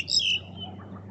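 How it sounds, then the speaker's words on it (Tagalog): A bird calls in pine woods with a short, bright, high chirp that slides downward, heard once at moderate distance. Quiet outdoor ambience and a low hum follow. "Ayun, nag-ingay ang ibon."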